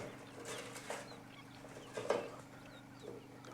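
A rooster clucks softly a few times at close range, with a quiet background and no talking.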